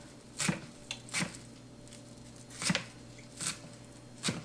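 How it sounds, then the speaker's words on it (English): Knife chopping flat parsley on a board, a handful of separate soft thuds spaced unevenly, close and fairly quiet with no talk. "I'm going to go ahead and chop it up for our garnish as well"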